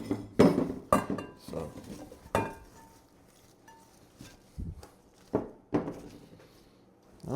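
Metal pots clanking and knocking as cabbage is moved into a bigger pot, a series of sharp close clanks and clinks spaced irregularly with quieter gaps between.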